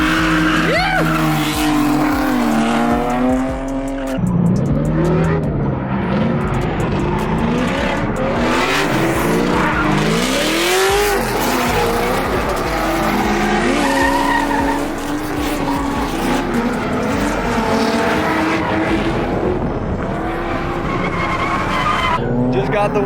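A car drifting on a track, its tires sliding and squealing over a revving engine, with loud, sustained screeches that rise and fall, and excited voices talking over the noise.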